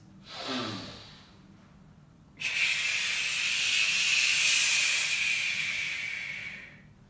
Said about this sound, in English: You should be able to hear the inhale when you're loading, and as you unload and you go towards hitting the ball, you should hear exhale